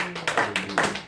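A church congregation claps in praise of the Lord during a sermon, a short burst of several sharp, close claps in quick uneven rhythm.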